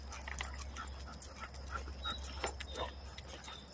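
An American Bully XL puppy with kennel cough whimpers and pants close by, soft high whines and short breathy pants coming in irregular bursts over a low steady hum.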